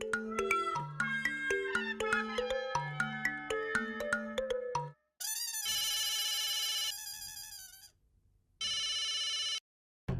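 A telephone ringtone plays a bright, repeating electronic melody, followed by loud bursts of harsh ringing separated by short silences, with no voices over it.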